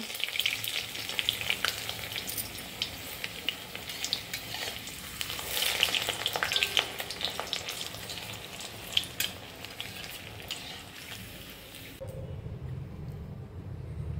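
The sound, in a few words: stuffed papads with soybean potato filling frying in oil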